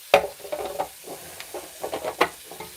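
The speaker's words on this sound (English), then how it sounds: "I'm going to get the carrots in now" Carrots dropped into a hot pan for a casserole, then stirred, a close scraping and rustling with a soft sizzle underneath and a few sharp knocks of the utensil.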